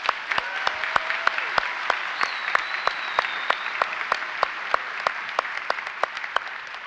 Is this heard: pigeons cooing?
no